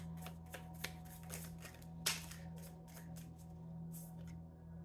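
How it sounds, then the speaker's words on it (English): A deck of tarot cards is shuffled repeatedly, with crisp riffling bursts and flicks close by over a steady low hum, no speech. "I'm gonna reshuffle, or keep shuffling."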